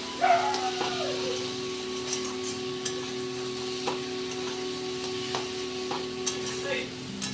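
Masala frying in oil while being stirred, a steady soft sizzle with repeated scraping strokes of the spoon against the pan at close range, with a faint tonal hum running underneath.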